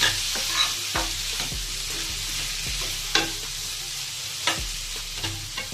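Veg biryani mixture with a spice paste stirred slowly in a pan: steady background sizzle with repeated scraping strokes of a spoon against the pan, close and clear, with no talking.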